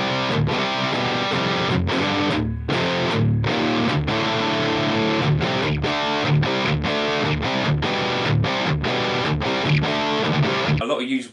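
Heavily distorted electric guitar chords through a Line 6 Helix Dual Rectifier amp model with bass boosted to 9 chug loudly in a rhythmic pattern with thick, boomy low end and short gaps between strums.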